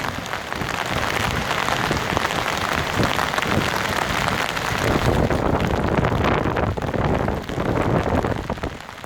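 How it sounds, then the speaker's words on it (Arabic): Heavy rain at the Al-Habla waterfall in the Asir region, a dense, steady broadband wash of falling and rushing water that stays loud and continuous throughout, with a little wind buffeting and no talk. "أمطار خير وبركة على منطقة عسير، وهذا شلال الحبلة"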